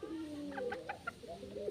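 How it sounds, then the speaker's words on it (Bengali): A chicken trapped inside a tub gives soft, short clucking calls in a quick series, with faint muffled rustling around it in a quiet setting. "ওই যে একটা মুরগি টাবার ভিতরে"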